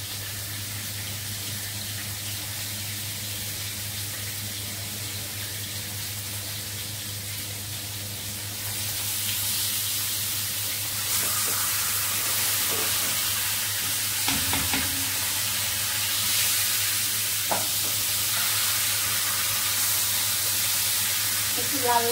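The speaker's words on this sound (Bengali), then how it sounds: "তো মাছ ভেজে নিচ্ছি" Fish frying in a pan produces a soft, continuous sizzle that swells louder about halfway through, with occasional stirring scrapes over a low steady hum and a few faint clinks.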